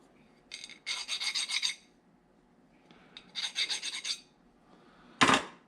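A hand file rasps a burr off a steam engine main bearing part in three separate bursts of quick back-and-forth strokes, close and crisp, with short pauses between them.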